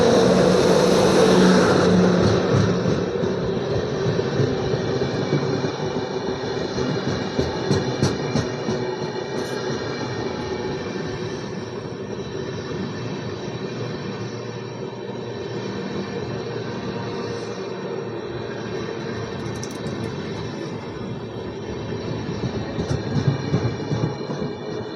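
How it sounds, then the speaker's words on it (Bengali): Another train crosses past a halted Howrah–CSMT mail train, a loud, sustained rolling rumble that swells at first and then holds steady for the whole stretch, with no speech. "ট্রেন ক্রস করছে।"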